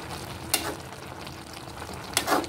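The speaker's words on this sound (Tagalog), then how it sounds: "kumukulo na." A pot of coconut-milk fish and vegetable stew bubbles and simmers steadily with a low hiss, with a couple of brief clinks or stirs standing out, close up and without voices.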